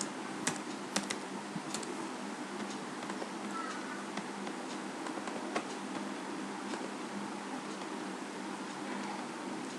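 Steady typing on a computer keyboard while entering a username, password and address into a Windows form, with quick, even key clicks continuing throughout at close range over a constant background hiss.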